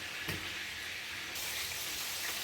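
Jalapeno ranch burger patties fry in a hot pan with a steady, dense sizzle that crackles evenly throughout, close and continuous with no voices.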